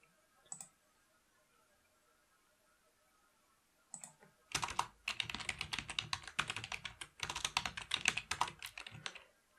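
Typing on a laptop computer keyboard while working in Qlik software: a couple of isolated taps, then fast continuous clattering keystrokes in close, crisp bursts, with no talking.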